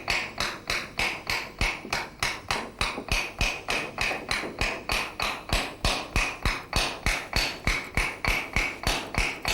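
A knife chops spices on a board in a Bengali home kitchen with fast, steady, evenly spaced strikes, around three per second, loud and close throughout.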